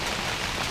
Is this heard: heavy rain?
yes